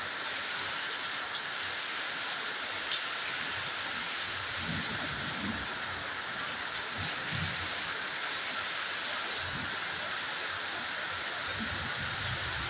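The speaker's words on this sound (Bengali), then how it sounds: "বৃষ্টি শুরু হয়েছে।" Steady rain pours down over a garden beside a boundary wall with a road beyond, a dense continuous hiss with no voices, faint low rumbles mixed in.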